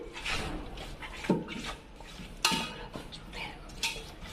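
A spoon scrapes and knocks around a pot as chicken dum biryani is stirred and mixed, with soft clinks over a low kitchen hum and a few sharper metallic taps.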